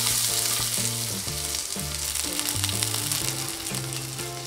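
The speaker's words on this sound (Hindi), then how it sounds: "पैन में ऑयल डालेंगे, तो गर्म होने देंगे अभी, और फिर इसमें हम डालेंगे ऑनियन" Chopped onions fry in hot oil in a pan, giving a loud, continuous close-up sizzle with a constant crackling hiss throughout.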